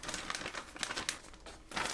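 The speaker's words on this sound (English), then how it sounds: "now I'm trying to let air out of plastic bag" A plastic bag holding pork and boiled eggs soaking in sauce crinkles and crackles up close as air is pressed out, in irregular rustling bursts.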